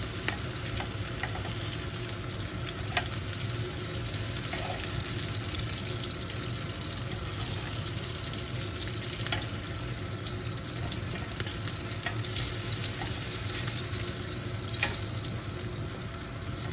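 Chicken pieces fry in a pan with a steady, close sizzle that runs unbroken, with occasional stirring clicks and scrapes and no talking.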